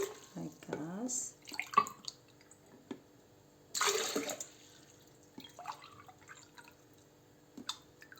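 Water is poured into a bowl of qatayef batter made from flour, semolina, starch, sugar, baking powder and yeast, giving a short splashing gush among soft kitchen clatter and drips, with quiet talk around it.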